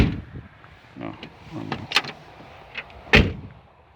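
A farm-found Ford F-150 pickup truck door clunks as it is handled, with a few knocks and a heavy, solid slam near the end, while a person says a short word.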